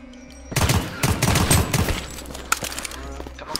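Gunfire in the Deathly Stillness game comes as dense, rapid bursts of loud shots, nearly continuous for a few seconds. Sharper single cracks follow after a short lull.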